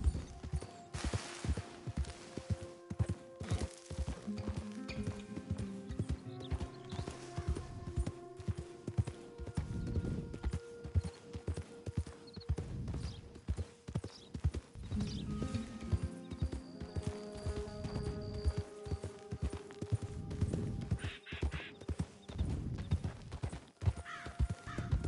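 Horse hooves clip-clop in a repeating rhythm in a western video game as a Tennessee Walker trots along, with soft game ambience underneath and no talking.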